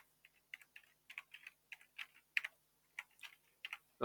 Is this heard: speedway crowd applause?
no